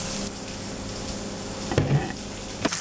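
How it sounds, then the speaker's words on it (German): Polenta bread fries in hot oil in a pan with a steady, close sizzle and crackle, broken by a couple of soft knocks as the pieces are moved. "Polenta-Brot einfach in die Pfanne mit heißem Öl eingebraten."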